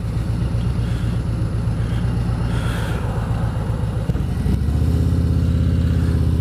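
A Harley-Davidson Road Glide motorcycle passes with a deep, loud, throbbing V-twin engine note that grows heavier and closer toward the end, over a constant rumble of road and wind.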